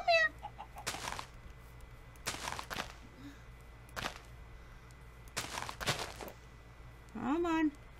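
Minecraft chickens clucking in the video game, several short clucks scattered between sharp percussive game sounds, with a brief squawk-like burst near the end and quiet background tones.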